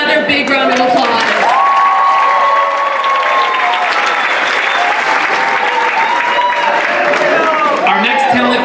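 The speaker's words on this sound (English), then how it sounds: "Let's give them another big round of applause." Loud applause and cheering from the audience at an Arab Xpressions 2018 talent show, sustained dense clapping with whoops and voices rising over it throughout.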